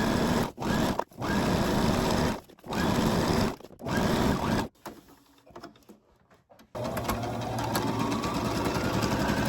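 A sewing machine stitches the seam of an envelope pillow cover with an edge, running in several short, close bursts separated by pauses before settling into a longer steady run.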